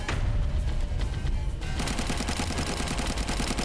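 Rapid automatic gunfire in the Roblox game Sentinel, loud and continuous, with a sharper burst of fast shots in the second half.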